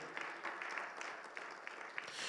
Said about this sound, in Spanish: le da un fuerte aplauso al Señor